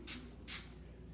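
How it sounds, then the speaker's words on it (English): Two quick, close hisses of a protein-based keratin conditioner being sprayed onto hair, each burst short and soft with a brief gap between them. "I'm gonna spray some of this, get some keratin in my hair, a light protein."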